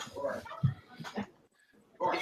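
A dog gives a few short yips and whimpers in an indoor room, moderately close, scattered over about two seconds with no clear talk.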